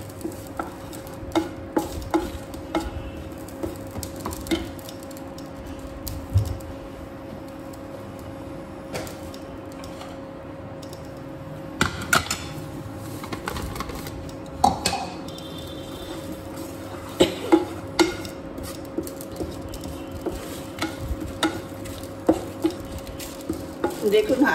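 Spices fry lightly in a pan while being stirred for a raw mango pickle, with soft scraping and clinking stirs at irregular intervals over a faint low sizzle and a steady background hum.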